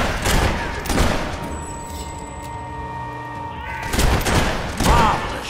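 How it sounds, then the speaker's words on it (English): Gunfire in Fable 3, with two or three sharp bursts of shots near the start and end around a quieter stretch holding a sustained tone. "Marvelous shooting."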